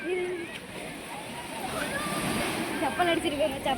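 Sea water washes and sloshes continuously onto Karaikal beach, with people talking over the waves throughout.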